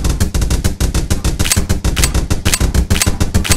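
Rapid automatic gunfire from a video game weapon, dense loud bursts of shots repeating steadily with brief gaps, no talking.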